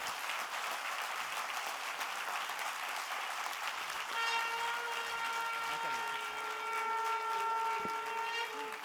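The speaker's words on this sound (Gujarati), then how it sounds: "મનહરભાઈ માટે જોરદાર તાળીઓ." Steady applause from an audience at a welcome event fills the whole stretch, with a long sustained tone from a microphone or instrument and some talk joining partway through.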